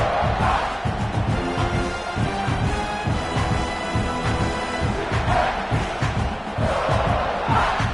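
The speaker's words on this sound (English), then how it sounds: "This crowd trying to make life miserable for this offense." A packed stadium crowd at a college football game roars loudly and continuously, a dense, rising wall of yelling and cheering aimed at the offense, with no pauses across the stretch.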